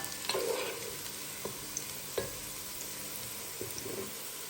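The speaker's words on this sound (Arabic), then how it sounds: "قطعت البصل راح احمسه" Chopped onions sauté and sizzle in a pan, a soft, steady frying hiss broken by a few light stirring scrapes and clicks, heard close with no talking.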